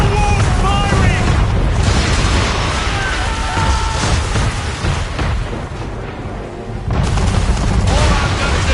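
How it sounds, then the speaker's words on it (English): Cannon fire from a man-of-war warship in Assassin's Creed 3, heavy booms and blasts rolling over a noisy naval battle, loud and repeated with shouting voices mixed in. "Man of war's firing!"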